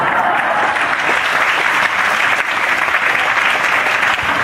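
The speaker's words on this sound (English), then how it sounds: "So give yourselves a round of applause." An audience applauds loudly and continuously in a room, a dense, close wash of many hands clapping at a steady level with no talking over it.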